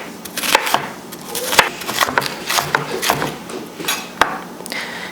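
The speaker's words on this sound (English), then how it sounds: "You just wanna cut the onion into small bite-sized pieces." A knife chops an onion into small pieces on a wooden board, giving irregular, close, sharp knocks that come in quick clusters with brief pauses.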